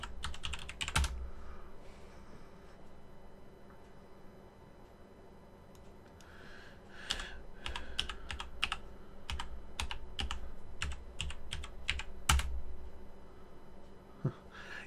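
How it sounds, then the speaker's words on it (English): A computer keyboard clatters as a password is typed, in sparse clicks at first and then a denser run of quick, crisp keystrokes. The typing is close and moderately loud over a low room hum, during a Star Citizen gaming session. "Typed in my password wrong."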